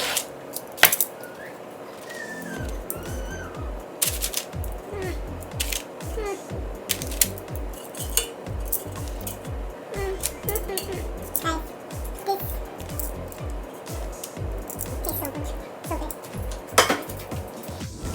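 Suya being taken out of an air fryer and served, with repeated clinks and clatters of dishes and utensils, a rhythmic low thudding and scattered scraping throughout, while a voice talks at times.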